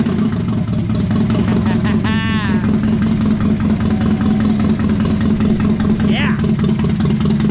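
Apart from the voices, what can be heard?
Mazda Miata engine idling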